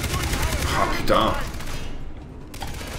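A machine gun burst in the Far Cry 3 video game, a dense, loud rattle of rapid shots at close range that fades after about a second and a half, with mechanical clicks.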